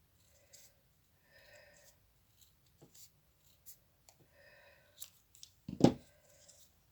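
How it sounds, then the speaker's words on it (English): Scissors snipping through a long narrow strip of craft foam, a few soft, scattered cuts and rustles at close range, ending in a sharper louder snip near the end, with no talking. "you can use a long piece of craft foam and just cut it"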